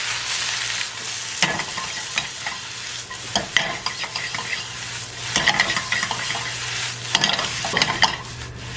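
Chopped onions seasoned with black pepper and salt sizzle steadily in a hot pan for a hotdog onion sauce, with several distinct scraping stirs that briefly lift the hiss at intervals.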